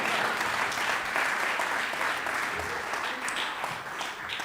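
An audience at a comedy show claps in a full, sustained round of applause with some crowd noise mixed in, loud and steady from start to finish.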